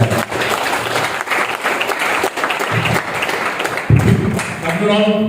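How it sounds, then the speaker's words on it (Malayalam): Workshop participants at an ice-breaking session applaud with brisk, crowded clapping that carries on steadily, a brief jolt near the end, and some voices mingling in the room. "Clap clap."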